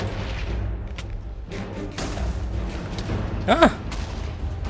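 Gunfire in a video game: a few booming shots stand out against steady background game noise, with one sharper burst near the end.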